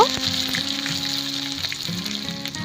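Onion pieces fry with whole spices in a hot pan, giving a steady close sizzle with faint stirring scrapes throughout and no voices.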